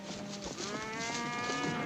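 Cattle near a creek low in a long, drawn-out moo that rises and holds, with more herd noise blended underneath, fairly close and with no talk.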